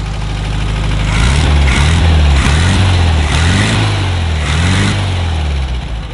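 A VW Beetle (Käfer) engine runs loud and close, a steady air-cooled rumble that swells and dips through several revs with no speech.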